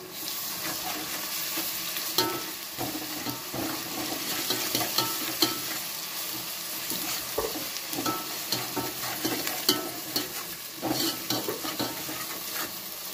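Ginger garlic paste frying in hot oil for egg biryani, a steady sizzle broken by repeated scraping stirs of a spoon against the pan, close and moderately loud with no voices.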